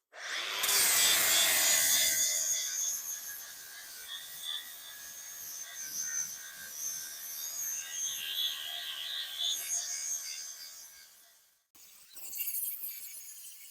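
Power saw cutting wood pieces for a mini snowcat cab on an amphibious tracked vehicle build, a sustained loud rasping cut that fades into lighter scraping and handling noise, with a brief pause near the end.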